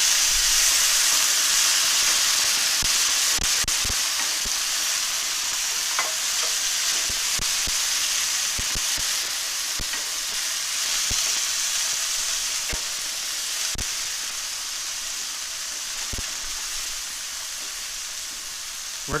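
Diced boxed tomatoes simmer in a pan, giving a faint, steady sizzling hiss broken by scattered soft clicks and taps throughout.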